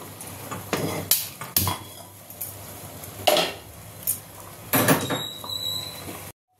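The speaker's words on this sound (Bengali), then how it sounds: "এবার আমি কড়াইটা বসিয়ে দেবো।" A wok (kadai) set onto a kitchen stove lands with several distinct metallic clunks and scrapes, loud and close, separated by short pauses.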